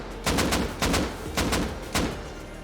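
Auto turrets in the Rust video game open fire in four quick bursts of gunshots, each a short rattling volley with brief gaps between, sharp and close.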